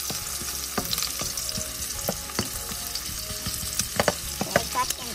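Samyang spicy noodles being stirred and mixed in a pan, a constant sizzle and fry under repeated scraping and clicking of the utensil against the pan, irregular and close, with no one talking.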